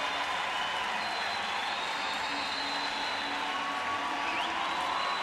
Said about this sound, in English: what you can hear is a huge cheer for the two remaining athletes in the pool